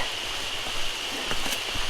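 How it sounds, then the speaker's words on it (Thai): Rain falls around six in the evening as a steady, soft, even hiss that lasts throughout, with no voices. "ฝนตกนะครับ"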